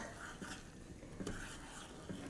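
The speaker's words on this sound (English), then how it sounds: "I'm gonna stir this up" Buttermilk pancake ingredients being stirred in a bowl on a granite countertop, a soft continuous scraping with a few light clinks of utensil against the bowl, close and fairly quiet.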